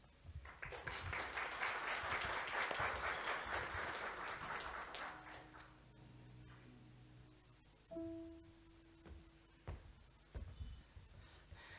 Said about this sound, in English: Madam Monique Klute certainly deserves another round of applause